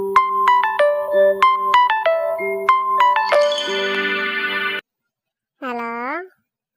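A phone call home rings through a handset: repeated electronic ringback tones and chimes in a steady pattern, then a short melodic tone after a brief pause, close and clear with no talk.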